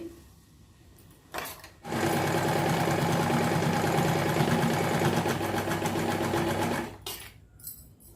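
A sewing machine stitches blouse fabric in one continuous run of rapid, even mechanical whirring lasting about five seconds, close and loud, with quieter handling knocks before and after.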